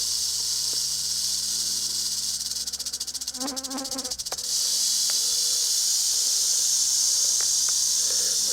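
A rattlesnake in Blair Valley rattles its tail, a steady, dry, high buzzing hiss that runs without a break over faint background noise.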